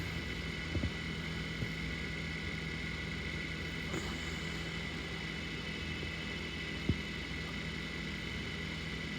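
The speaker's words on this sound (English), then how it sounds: "I hear the hum." A steady low hum from a KitchenAid refrigerator compressor running after a compressor relay replacement, continuous and moderately quiet, with a couple of faint clicks and no talking.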